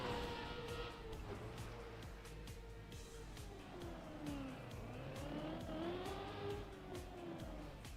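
A car engine hums and shifts pitch as it drives in the racing game Trackmania, with steady tire and motor noise and faint tire chirps, no voice present.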